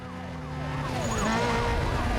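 Police sirens wail in the racing video game Need for Speed Most Wanted, several overlapping up-and-down tones layered over a loud, steady engine roar, with no voices present.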